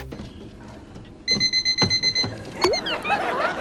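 Alarm clock ringing in a comedic sound effect, a rapid burst of repeated electronic beeps in a short pulsing rhythm, followed by a brief clatter.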